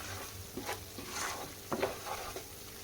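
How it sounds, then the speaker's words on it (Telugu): Spoon strokes stir a spice and salt mixture in a frying pan over a low, quiet sizzle, with a few distinct scraping clinks spaced through the mix. "సాల్ట్ వేసేసుకొని ఒకసారి కలిపేసుకోవాలి మొత్తం"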